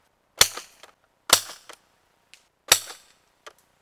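Three sharp shots from a Supermaxx 5000 airsoft gun firing white dome BBs, evenly spaced about a second apart, each a loud crack with a short rattle after it and a faint tick of the BB landing, with no voices.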